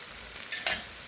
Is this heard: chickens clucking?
no